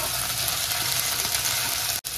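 Steady, bright sizzling of ginger-garlic paste frying in hot oil for tempering, continuous and close, with a brief dropout near the end.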